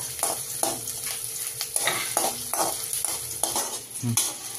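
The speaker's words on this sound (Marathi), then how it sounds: "आता ह्यो कांदा परतून घ्यायचा." Onion sautéing in a pan for a homestyle tanduljā greens dish, a soft sizzle under repeated scraping stirs from a spatula or spoon, each stroke landing every half-second or so.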